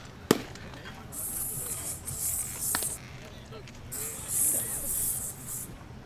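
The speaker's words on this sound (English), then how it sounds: "he applies the much-needed bug spray because these things are eating us alive" Aerosol bug spray applied at a summer evening baseball game, Lexington Blue Sox vs Melrose Americans, giving two long, close hissing bursts over quiet ambient noise.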